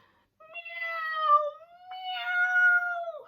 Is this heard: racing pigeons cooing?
no